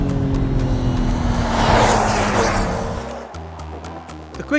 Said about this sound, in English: Put it in sport and the exhaust gets a bit deeper, a bit fruitier, a bit sportier